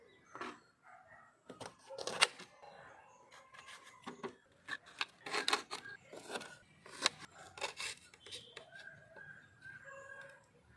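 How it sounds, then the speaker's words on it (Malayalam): Fresh capsicum being cut into pieces in a home kitchen while preparing green alfaham chicken, giving a run of close, irregular snipping and slicing clicks with short pauses between them and no talk. "ക്യാപ്സിക്കം പക്ഷേ ഇത്രയും വേണ്ട നമുക്ക് ആവശ്യത്തിന് കട്ട് ചെയ്തെടുക്കാം"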